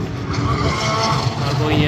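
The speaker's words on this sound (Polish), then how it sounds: "Miał być jakiś wyścig, ale chyba swoimi autami jeżdżą." Cars lapping the Nürburgring, a loud, continuous engine roar with tire noise passing close by, filling the short stretch without a break.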